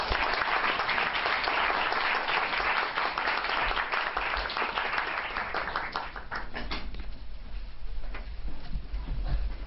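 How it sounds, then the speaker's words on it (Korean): Loud, dense audience clapping welcomes a professor at an academic theology seminar. It holds strong for about six seconds, then thins and fades out. "큰 박수로 한번 환영해 주시면 감사하겠습니다."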